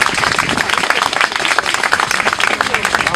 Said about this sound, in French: Je propose qu'on les applaudisse, tous ces gens